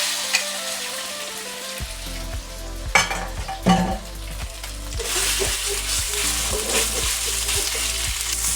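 Pork pieces hitting a smoking-hot wok with oil over medium-high heat: a quiet start, then a sudden burst of loud sizzling, clattering and spatula scrapes as the meat is tossed and stir-fried.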